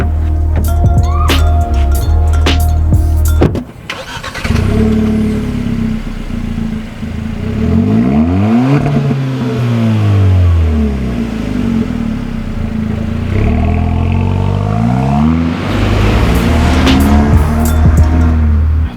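A 2020 Kia Forte GT engine idles roughly, then revs up and down in several loud swells, close and throaty, with a sharp blip of throttle near the start.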